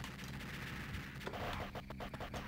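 An enemy shoots quills in the Neo Geo video game Prehistoric Isle 2, a dense, rapid rattle of sharp shots, like a fusillade, layered over busy game sound.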